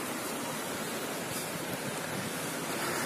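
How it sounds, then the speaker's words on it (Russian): A shallow mountain river running beneath a bridge near the Kyrgyz border, a constant loud rushing roar of water that stays even and unbroken from start to finish. "Вот она, река. Шумит."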